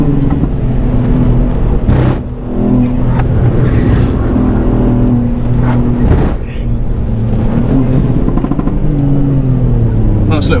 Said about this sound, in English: Nice little pop from the exhaust,